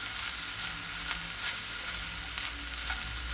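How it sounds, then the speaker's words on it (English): Yellow pepper and tomatoes cook in a nearly century-old cast iron skillet, giving a soft, continuous close sizzle with a few faint stirring knocks. "yellow pepper, cook that down a minute or two"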